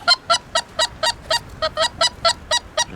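A flock of geese honks over marshland during a goose hunt, a regular series of about a dozen clear, evenly spaced calls, fairly close and distinct above quiet background noise.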